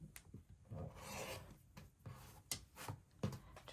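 A rotary cutter or blade slices through a fabric quilt block along a center seam on a cutting mat, giving a few short close rasping strokes separated by brief pauses.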